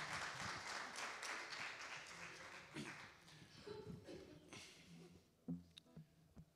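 Applause from a church congregation welcoming a guest, dense clapping that thins out and fades partway through, followed by a few scattered claps and faint voices near the end.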